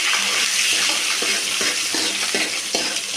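Mustard seeds and urad dal spluttering and popping in hot oil in a pan, a steady loud sizzle with crackling bursts and occasional stirring scrapes, no voices.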